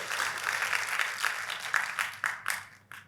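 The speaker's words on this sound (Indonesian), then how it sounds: "kalau mau tepuk tangan yang paling meriah." A church congregation claps during a sermon, broad crowd applause that rises and thins out unevenly, with a few sharper bursts near the end and the clapping tapering off.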